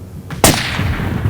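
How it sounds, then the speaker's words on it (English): A single rifle shot outdoors at a shooting competition, a sharp close crack with a short booming tail, alone in the wind. "Shot."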